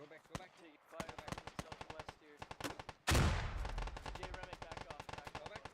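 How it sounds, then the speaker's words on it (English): Gunfire and grenade launcher shots in the Squad video game: sharp bursts of rifle and machine-gun fire, then a heavy booming blast followed by rapid continuous shooting, some shots close, others more distant. "Jay Remick throwing some grenade launcher shots forward."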